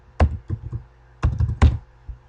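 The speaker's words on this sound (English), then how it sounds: "I'm going to type in the password" Close, distinct keystrokes as a password is typed on a computer keyboard: a few separate taps, a pause, then another quick group of clacks, each sharp and solid in a quiet room.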